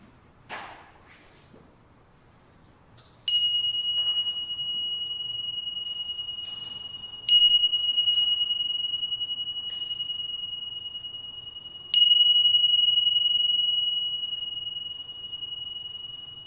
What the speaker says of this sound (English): I'm going to ring some bells, or there's only 2 of them actually